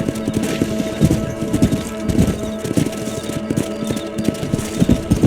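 Horses galloping across open ground in the video game Red Dead Redemption, a rapid, steady clip-clop of hooves up close, with no voices.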